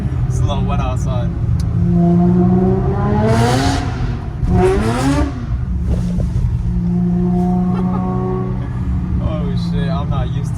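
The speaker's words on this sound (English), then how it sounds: "get some interior clips of how the exhaust sounds like." Infiniti G35 sedan with Motordyne exhaust and thunder pipe, heard from inside the cabin: a deep engine hum rising through loud revving pulls with gear shifts, droning steadily between bursts.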